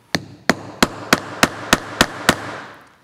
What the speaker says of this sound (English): I'm gonna strike it with my brass hammer